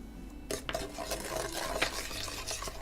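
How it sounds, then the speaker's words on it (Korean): A bulgogi mixture being stirred after about two tablespoons of pear juice are added, with wet squelching and scraping of a spoon against the bowl in a steady close rhythm, no voices. "배즙 두 큰술 정도 넣고 다시 이렇게 잘 섞어주시면 돼요"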